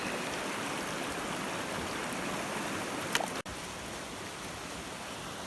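A mountain creek in the East Kootenays of British Columbia flows steadily, a continuous close rushing of water with no break except one brief dropout near the end.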